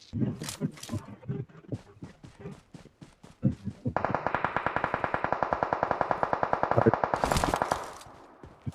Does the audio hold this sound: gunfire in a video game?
yes